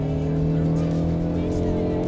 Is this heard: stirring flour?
no